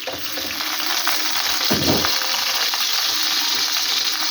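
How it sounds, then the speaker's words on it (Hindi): Chopped onions hitting hot ghee in a pan for masala bhindi, giving a steady, close sizzling hiss with a brief louder splash of frying partway through, no voices. "बिस्मिल्लाह करके अब हम इसमें प्याज पहले डालेंगे।"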